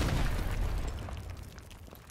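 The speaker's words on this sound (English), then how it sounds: "Gotta drop a grenade up there." A grenade explodes in Call of Duty Modern Warfare Remastered with a deep, loud rumbling boom that slowly fades away over about two seconds, with no voices.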